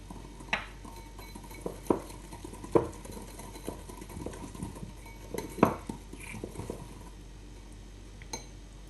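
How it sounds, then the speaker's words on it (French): A small whisk mixes lemon juice and icing sugar glaze in a bowl, giving irregular light clinks and taps of metal against the dish, quiet and close, no talking. "Donc je mélange avec un petit fouet."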